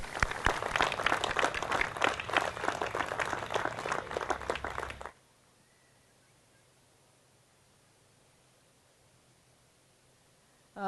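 At an outdoor park celebration, a crowd applauds in moderately loud, dense clapping for about five seconds before it cuts off sharply into near silence.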